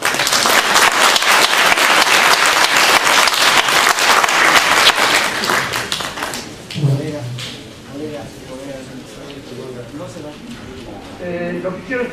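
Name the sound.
audience applause for a seminar speaker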